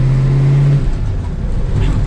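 Engine of a first-generation Dodge Challenger R/T revving in a parking lot, a loud steady low rumble with a held tone at first that gives way to broader rough engine roar, continuous and close.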